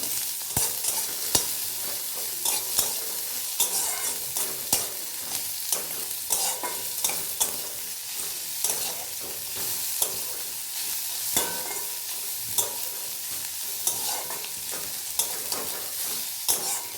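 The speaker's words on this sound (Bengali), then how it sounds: "পেঁয়াজটা দিয়ে দিলাম রসুনটা দিয়ে দেব এটাকে একটু ভেজে নেব আমি" Onion and garlic fry in a pan while a utensil stirs and scrapes them, a steady crackling sizzle with regular clinking strokes throughout, close and continuous with no talk.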